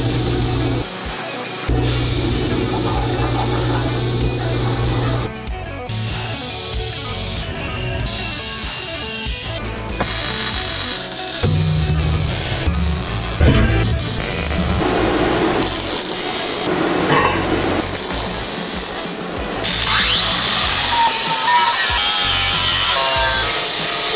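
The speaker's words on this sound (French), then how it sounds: "c'est parti pour le découpage au plasma" A plasma cutter slices through steel in a workshop during an axe build, giving a loud, continuous hissing and roaring cut with brief interruptions and shifts in tone across the run, with no talking.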